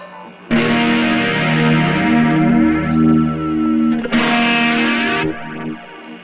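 A Stagg Silveray Nash electric guitar on its bridge single-coil pickup rings out chords with a bright, twangy, effected tone, a long sustained chord followed by a second strum that fades out.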